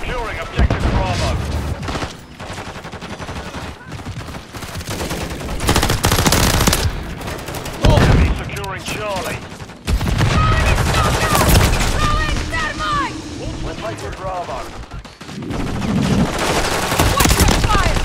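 Dense, loud gunfire from Call of Duty Modern Warfare III plays during a Shipment Domination match, with rapid automatic bursts and near-constant shots layered under in-game voice callouts.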